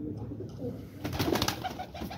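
Caged pigeons coo softly in low, throaty murmurs, close by, with rustling and fluttering sounds in the middle.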